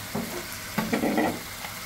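Spices stirred and fried in a pan while cooking a chicken dish, with soft scraping stirs and a low steady sizzle, a few sharper stirring strokes standing out.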